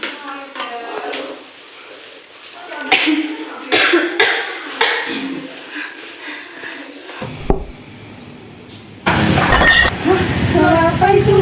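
Glass falls and shatters inside a house, a sharp loud crash near the end after a stretch of muffled sounds and voice-like noises, with the breaking burst ringing brightly over the last couple of seconds.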